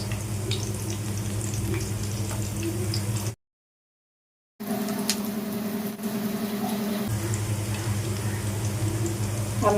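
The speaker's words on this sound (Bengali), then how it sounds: "দুই পিঠটা লাল লাল করে ভেজে নেব" Fritters sizzle steadily in hot oil in a pan, a soft continuous frying hiss broken by a short silent gap, with occasional faint clinks of a utensil.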